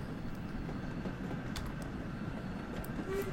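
A train rolls across a bridge in a video game, a steady rumbling rail noise at moderate distance with faint clicks and a brief tonal squeal near the end.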